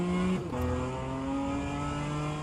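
A race car engine in the rFactor 2 racing game accelerates through a gear change, its whine dipping then rising steadily as a continuous, fairly quiet tone with no talk.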